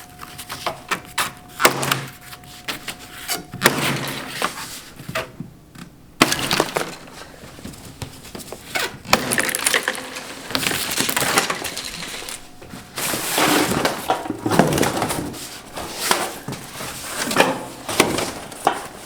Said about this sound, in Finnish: Mä avaan nyt ton paketin.